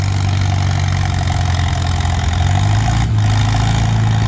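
An antique Farmall or John Deere tractor engine labors under load at a tractor pull, a loud, continuous low throaty drone that stays close and steady throughout, with no talking.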